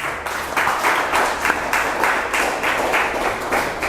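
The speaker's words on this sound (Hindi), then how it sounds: "तो ऑडियंस के लिए जोरदार तालियां हो जाए।" A quiz-show audience in a school setting bursts into enthusiastic applause, with dense, rhythmic clapping swelling and pulsing for a few seconds, moderately loud and without voices over it.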